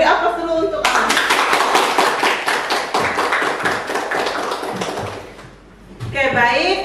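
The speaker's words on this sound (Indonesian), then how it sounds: "beri aplaus dulu untuk Alan" A classroom of students breaks into quick, lively applause for a classmate, close and energetic for several seconds before it fades out. A teacher's voice is heard just before and after the clapping.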